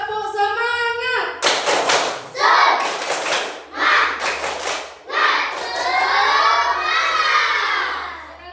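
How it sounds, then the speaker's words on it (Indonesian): A classroom of children does a rhythmic spirit clap: loud bursts of clapping, close by, break through their chanting and shouting voices, with short pauses between the clap patterns. "Sekali lagi, tepuk semangat."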